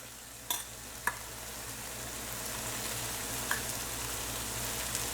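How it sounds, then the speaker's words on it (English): Rice goes into a hot pan over a medium flame, and a steady sizzle and fry rises with a few sharp scrape and stir clicks, and no one talks. "now we're just going to add our rice"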